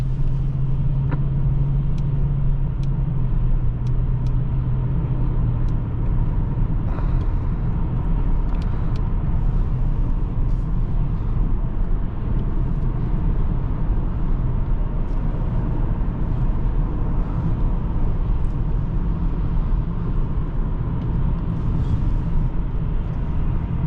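A 2004 Lexus LS430 hums along on a test drive, its low engine and road rumble steady and smooth from inside the cabin, with faint clicks and ticks over the drone.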